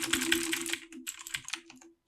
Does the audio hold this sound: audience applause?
no